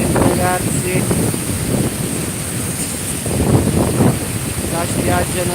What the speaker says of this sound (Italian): il mare è agitatissimo, un vento pure pazzesco